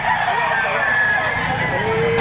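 Rooster crowing at a livestock auction market in Padre Garcia, Batangas, a sustained call over a noisy, crowded background with some murmuring voices.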